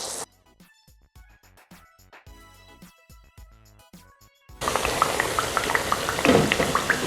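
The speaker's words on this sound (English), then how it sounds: "I'm just going to give this a second fry for about 5 to 7 minutes" Plantains in hot oil on their second fry, a dense steady crackling sizzle that starts abruptly partway through after a quieter stretch of scattered taps, then holds loud and close to the end.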